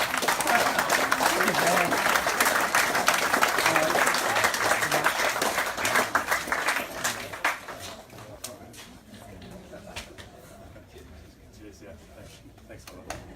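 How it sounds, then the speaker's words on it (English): An audience applauds loudly at a shirt presentation evening. The dense clapping lasts several seconds, then thins out and fades to scattered claps and room noise. "This is when you clap."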